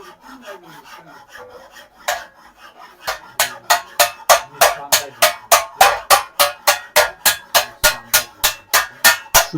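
Silver being finely hammered with a small hammer on a metalworking bench: a steady series of about twenty sharp, evenly spaced metallic strikes, close and loud, following a few seconds of quieter scraping.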